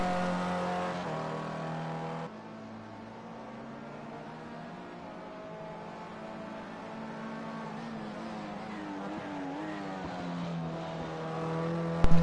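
A roughly 800-horsepower race car engine on the Pope Mobile at a Labor Day Gran Prix hums as a steady, close drone, shifting in pitch as it revs, with a short sharp burst at the end.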